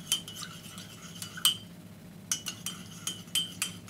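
A metal teaspoon clinks several times against a glass while condensed milk goes into Thai tea. The bright taps come close and quiet, scattered through the moment with short pauses between them.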